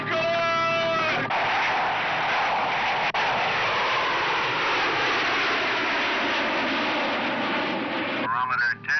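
Taking-off airplane in a French radio drama, heard as a loud, continuous engine drone that fills the scene and swells steadily, with brief voices at the start and end.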